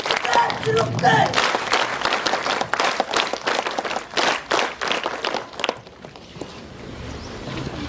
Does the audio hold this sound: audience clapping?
yes